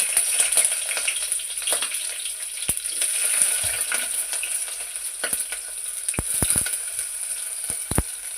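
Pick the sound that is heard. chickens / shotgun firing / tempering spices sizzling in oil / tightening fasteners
tempering spices sizzling in oil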